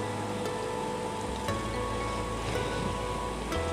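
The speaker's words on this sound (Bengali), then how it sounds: "আমি এখানে ভাজিটা কড়াইয়ে তুলে দিয়েছি" Vegetables frying in a wok (kadai) with chili powder, turmeric and a little salt give a steady, dense sizzling hiss throughout, close and fairly loud, with a few faint clicks and no voices.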